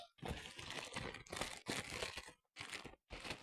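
A parcel holding a Lisa magazine is torn open close up, with loud crinkling and ripping of packaging in four or five bursts separated by short pauses and no talk.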